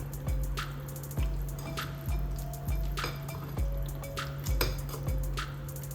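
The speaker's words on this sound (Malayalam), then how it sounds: "ഇനി ഇത് നല്ലതുപോലെ മിക്സ് ചെയ്യാം" Coconut milk cake batter being mixed in a bowl, a rhythmic series of wet slaps and drips roughly every second over a steady background hum, with faint clinks of utensil on bowl.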